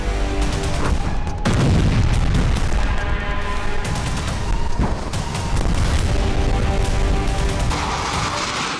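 Loud, dense series of booming explosions from Israeli air strikes on Lebanon, heavy low rumbles and blasts overlapping continuously, with sharp cracks among them and no let-up.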